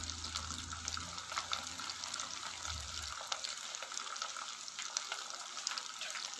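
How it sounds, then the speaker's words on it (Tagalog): Steady running water pours continuously into a pan of pancit noodles, a broad splashing wash with a low rumble in the first half that fades away. "Saka tayo maglalagay ng lahat ng tubig."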